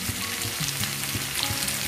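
Small onions and garlic frying in a pan for a garlic and shallot curry give a steady, close crackling sizzle with faint stirring scrapes, continuous throughout and without any speech.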